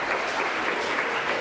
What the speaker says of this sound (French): veuillez applaudir notre dernier candidat tant attendu de la soirée